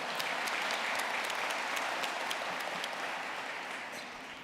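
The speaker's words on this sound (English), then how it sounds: "Let's give her a round of applause." Sustained applause from a commencement crowd for the speaker's wife, a dense wash of many hands clapping at steady volume that gradually thins and softens toward the end.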